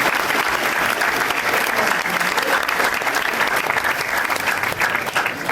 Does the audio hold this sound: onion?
no